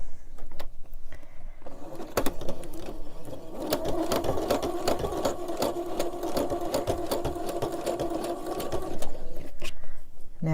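A sewing machine runs steadily for several seconds, stitching a baby clothes quilt, with a fast mechanical whir and needle clatter under light background noise.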